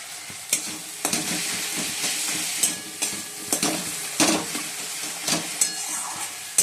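Onion, tomato, shrimp and cauliflower fry together in a pan, giving a steady close sizzle broken by repeated sharp scrapes and clacks of a spoon being stirred through the mix.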